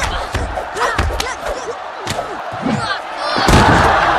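Crowd cheering and shouting at a martial arts tournament final, loud and dense, with sharp thuds and slams from the fight cutting through and the roar swelling near the end.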